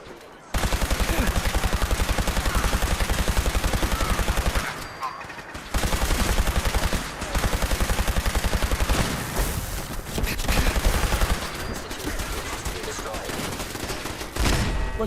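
Gunfire in Fallout 4, loud and sustained, with dense rapid bursts that break off briefly around the middle and then resume at full intensity.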